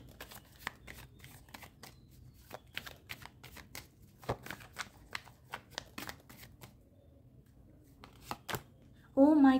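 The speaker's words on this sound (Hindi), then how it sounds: "चलिए एक फाइनल कार्ड मैं आप लोगों के लिए चेक करना चाहूँगी" A tarot deck is shuffled and cards are drawn, giving a long run of close, crisp riffling flicks and light slaps in uneven bursts, quiet overall and with no talking until a short burst of sound at the very end.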